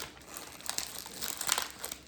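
Crinkly plastic wrapper of a chocolate-coated oat snack bar being handled and torn open, a close, continuous rustling and crackling with no talking.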